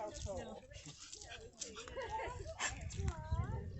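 A dog on a beach along from Kildonan, with yips, whimpers and barks mixed into a busy outdoor scene while people talk over much of it.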